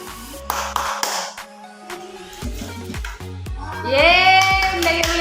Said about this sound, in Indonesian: ketika Bunda tepuk tangan